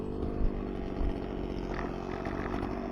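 A motorized saw drones steadily as it cuts, its engine holding a constant rough buzz with a couple of brief bumps near the start.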